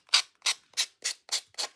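A dollar store sanding block rubs across tissue paper in six even, rhythmic strokes, each a short scratchy swish close up with brief pauses between.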